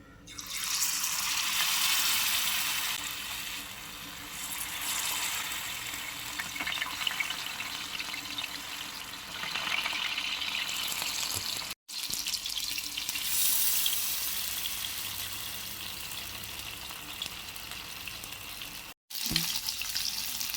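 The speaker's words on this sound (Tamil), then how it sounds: "இதை நம்ம தோசைக்கல்லில் போட்டு இப்போ சாலோ ஃப்ரை பண்ணிக்கலாம்" Marinated fish shallow-frying in coconut milk on a dosa griddle hisses with a loud, continuous, close sizzle that holds steady, broken by two brief silent gaps.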